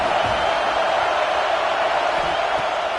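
Steady roar of a stadium crowd in the College Football 26 video game, a dense, even wash of noise that holds at the same loud level throughout with no distinct shouts standing out.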